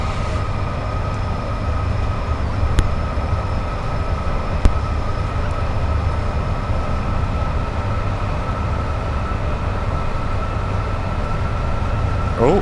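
A Class 86 electric locomotive hauling Mark 2F coaches on the 1S53 Coventry to Glasgow Central service rolls past with a steady rumbling roar, joined by a constant whine and a couple of sharp clicks from the track.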